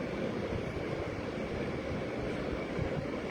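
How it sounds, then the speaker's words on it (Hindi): Sea waves wash in a continuous, soft broadband rush with gentle swells, steady and moderately distant, with no voices over it. "लहरें उठती हुई, उन लहरों की आवाज़ आप तक पहुंच रही है"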